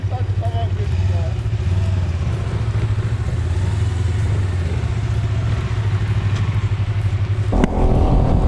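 Yamaha X-Max scooter engine running steadily at close range while riding, with a low drone throughout and a louder rise near the end; voices can be heard over it.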